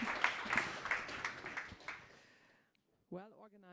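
Audience applause for a sports sustainability pitch team, a dense burst of many hands clapping that fades out over about two and a half seconds before a voice begins speaking.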